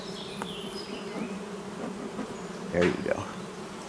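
Honeybees buzz densely in a top bar hive, a close, steady drone that swells briefly near the end, while a person speaks a few words over it.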